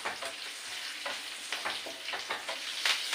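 Crushed garlic sizzling and frying in hot mustard oil in a pan, a steady crackling hiss with irregular spits and stirring scrapes, close and continuous with no talking.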